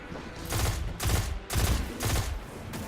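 Bursts of explosions and gunfire from the video game Destiny 2, with four loud, roughly evenly spaced booming volleys of shots over a constant background of game sound and no talking.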